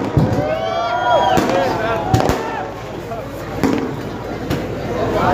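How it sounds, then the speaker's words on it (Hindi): Firecrackers going off at a public political rally, sharp cracks and bangs popping at irregular intervals in the distance beneath a speaker's amplified voice and crowd murmur. "ये जो पटाखेबाजी हो रही है ये हम नहीं कर रहे।"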